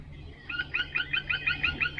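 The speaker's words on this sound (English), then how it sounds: "that's what a woodpecker sounds like" A series of short, repeated bird calls in quick rhythmic succession, fairly clear against quiet outdoor background hum.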